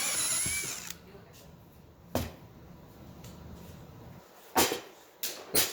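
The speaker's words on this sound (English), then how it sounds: "I use a 1-inch hole saw because it allows me to form thread" A power drill fitted with a 1-inch hole saw cuts a hole for a fitting, giving a loud, brief whine at the start, then a few sharp knocks and clatters of the tool against the workpiece.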